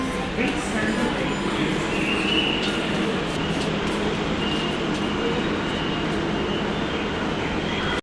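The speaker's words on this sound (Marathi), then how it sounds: "आणि आता आपला मेट्रोचा स्टॉप MG स्टेशन हा आलेला आहे." Hyderabad metro train pulling into MG station, a steady loud rumble of the train filling the whole stretch, with voices and chatter mixed in.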